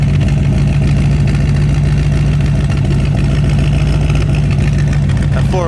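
Idling 409 V8 in a 1962 Chevrolet Bel Air, a deep, loud, continuous rumble with a steady low throb that stays even throughout.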